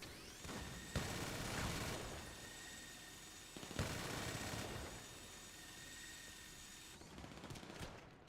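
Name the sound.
gunfire in the video game GTA 5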